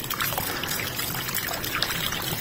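Cold running water pours and trickles steadily from a hose on a Benguet farm, a continuous close splashing wash with no pauses.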